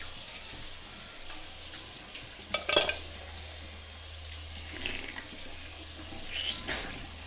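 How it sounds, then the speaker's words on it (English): Water running steadily from a tap while a face is washed with soap, a continuous hiss with a few brief splashes and knocks nearby. "So I wash my face with soap in the morning."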